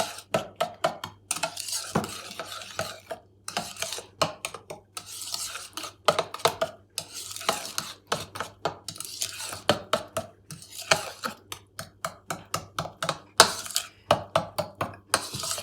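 Egg and flour being mixed into batter for a gluten-free lemon polenta cake, close, rapid scraping and tapping strokes of a utensil against a bowl in a busy, uneven rhythm, with no talking.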